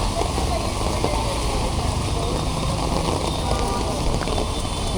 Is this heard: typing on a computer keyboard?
no